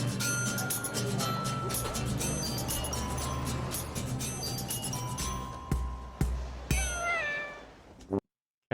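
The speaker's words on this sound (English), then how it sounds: "Cats everywhere." Cats meow in a busy cat cafe, short high calls rising over steady room chatter, with a few light clinks and knocks before the sound cuts off near the end.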